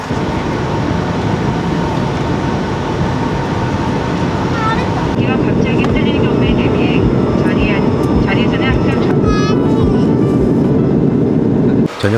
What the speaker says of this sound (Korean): 비행기로 도착한 제주도